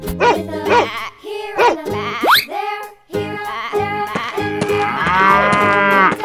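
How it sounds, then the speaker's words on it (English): A cow moos repeatedly in a string of drawn-out, loud calls that rise and fall, close by and with no talking. "Cow."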